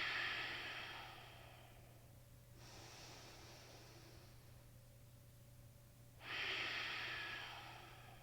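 A person takes slow, audible breaths during a yoga stretch, with two long, airy exhales about four seconds apart, close and soft over a low steady hum.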